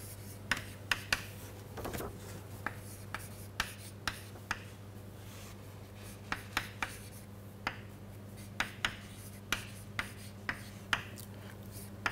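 Chalk or pen writing on a board during a lecture, a steady series of short scratchy strokes in quick bursts, fairly close, over a low steady hum, with no talking.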